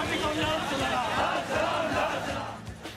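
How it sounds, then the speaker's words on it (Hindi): A large, dense crowd roars and calls out together at Captain Lakshmi Sahgal's funeral procession, a steady loud mass of voices with shouted slogans throughout. "कैप्टन लक्ष्मी सहगल की अंतिम यात्रा में लोगों का हुजूम उमड़ पड़ा"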